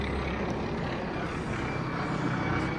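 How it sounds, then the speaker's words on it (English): An air ambulance passes over a London street at night, giving a steady, moderately loud airborne drone that stays even over a few seconds with no talk. "Air ambulance."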